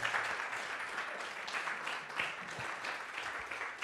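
An audience in a church gathering applauds steadily for a few seconds, a dense, even wash of clapping that holds at moderate loudness.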